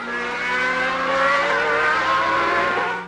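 Formula One cars racing at the 1995 Spanish Grand Prix in Barcelona, a steady loud engine whine with shifting high harmonics as cars sweep past, with tires sliding at the corners.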